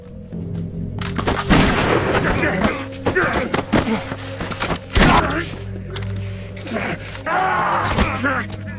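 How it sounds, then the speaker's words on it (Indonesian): Close-range shootout in an action film, loud gunshots and bursts of fire cracking in irregular clusters over a dense, booming soundtrack with other effects layered throughout. "Baku tembak antara 2 orang bermusuhan ini terjadi."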